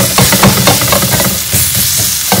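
Crushed green chili thecha fries loudly in a pan, a close, dense sizzle with stirring scrapes and bursts of spattering, no voices present.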